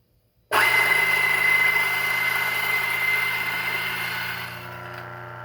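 A DF83 coffee grinder starts cold with beans already dumped in, bursting into a loud, steady whirring grind with a high whine that eases slightly toward the end.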